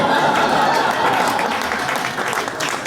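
Comedy club audience at the LA Improv breaking into applause mixed with laughter, a loud, close crowd of clapping hands sustained for a few seconds before easing slightly.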